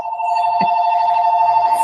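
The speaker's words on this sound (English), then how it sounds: "Jiunn, answer the phone, please." A telephone rings with a bright, steady electronic tone that holds throughout, loud and close, with a brief knock partway through.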